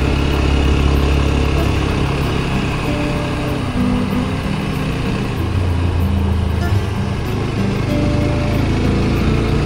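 A loud engine rumbles steadily throughout, close and continuous like a running motorcycle, with wind noise and no clear talking.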